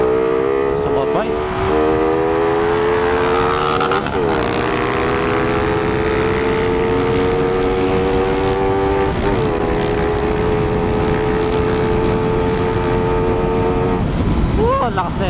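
A big motorcycle passes a riding motorcyclist, its loud engine droning with steady, strong harmonics and a slight pitch shift over a constant rush of wind and road noise.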